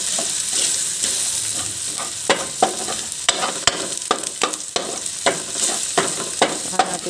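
Garlic and onions sautéing in a pan for ginisang upo, with a steady frying sizzle broken by repeated sharp scrapes and clacks of a spatula stirring, close and fairly loud throughout.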